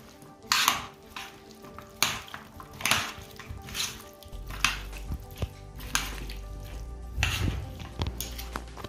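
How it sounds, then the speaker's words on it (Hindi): Chicken and potatoes being tossed with oregano and spices, giving a series of close clinks, scrapes and knocks of a spoon against a bowl or pan, irregular and moderately loud with short pauses between strokes. "और अब इन सब चीज़ों को मैं अच्छी तरह से मिक्स कर लूंगी"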